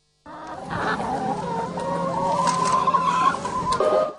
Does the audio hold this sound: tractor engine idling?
no